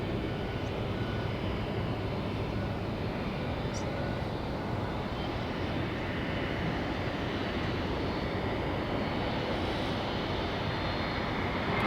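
A Southwest jet airplane at Tampa International Airport gives off a continuous, fairly distant engine roar that holds steady throughout without pause.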